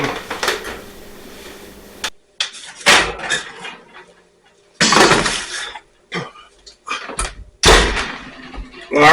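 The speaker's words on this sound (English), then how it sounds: "So let's go ahead and pull them out of the oven." Oven door opening and a baking tray of golden brown Runza sandwiches being pulled out, with scattered clanks, metallic scrapes and thuds of the pan and door in a home kitchen, no talking.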